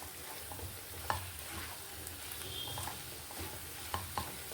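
Potato curry fries in a pan for a Telugu-style aloo fry, a soft steady sizzle under occasional scraping stirs and a couple of faint utensil clinks, quiet and close, with no talk.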